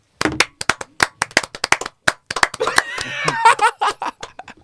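Several people in a podcast studio clap in sharp, uneven bursts of close hand claps, with a stretch of laughter and a voice mixed in partway through.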